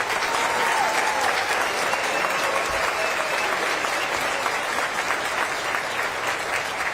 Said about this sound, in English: give a big round of applause for Mayor Benton